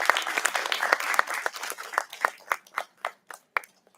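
Applause at an academic heritage conference for a faculty coordinator, starting as a dense burst and thinning into scattered individual claps that fade out.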